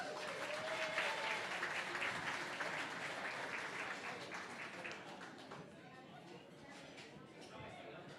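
Dinner guests at a live auction event give a round of applause, dense clapping that starts strong and gradually thins and fades toward the end, with faint chatter mixed in.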